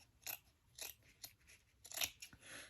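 Scissors snip through fabric while a journal cover is being made, giving a few quiet, separate crunchy cuts up close with pauses between them and no talking.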